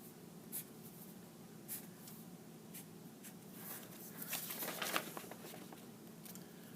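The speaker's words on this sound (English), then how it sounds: "I'm just showing you how I write." Pen or marker scratching across paper during hand lettering, a run of soft strokes and taps that grows busier and louder toward the end, heard alone with no talk.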